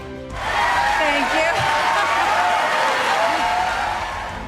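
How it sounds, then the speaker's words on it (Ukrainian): At the Golden Globe awards an audience gives a standing ovation: broad, sustained applause mixed with crowd noise and scattered whoops swells up after a quiet start and holds steady throughout. "Глядачі аплодували стоячи."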